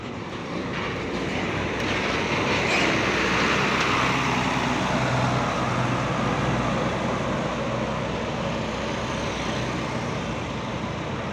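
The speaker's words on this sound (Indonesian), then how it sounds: "ini Akas NR-nya berputar balik ya, untuk mengambil tempat parkir ini biasanya" An Akas NR bus turns around at the Purabaya Bungurasih bus terminal, a steady, loud engine rumble and rolling road noise that holds evenly throughout with no voices.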